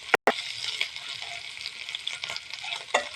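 Ginger and garlic paste frying in a pan, a continuous moderate sizzle with occasional stirring scrapes, broken by a short silent gap near the start, with no speech.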